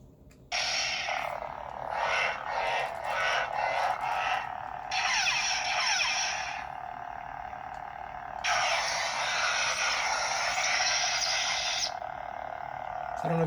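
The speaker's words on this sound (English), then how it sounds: "So I've typically been having the lightsaber on low volume, so I can change it to high volume so you can see what that sounds like." A TXQSaber TS015 lightsaber set to high volume gives loud electronic hum and swing effects in bursts, a run of short pulses followed by longer sustained stretches, close and without talk.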